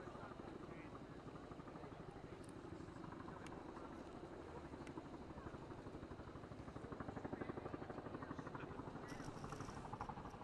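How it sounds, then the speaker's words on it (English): Press helicopters hover overhead during a live White House welcome for the British prime minister. A steady, rhythmic rotor chop drones throughout under continuous nearby talk. "So obviously the press helos first."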